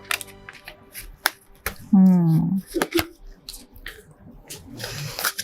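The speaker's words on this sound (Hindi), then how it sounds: "आइए निकालते हैं 3 कार्ड्स।" Tarot cards shuffled and drawn by hand for a weekly reading, giving close papery riffles, flicks and soft slaps in short bursts, with a brief voice-like murmur in the middle.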